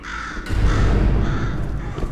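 A crow in Portal 2 lets out a loud, close, harsh caw that rasps on for well over a second, alone with no talk.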